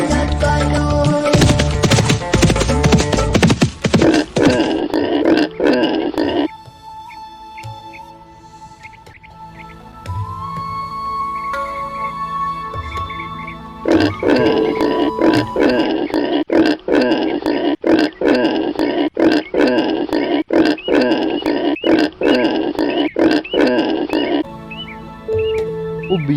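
A pig in an animated Assamese folk tale grunts in loud, rapid, rhythmic bursts, falls quiet for several seconds while a steady tone plays, then grunts again at length.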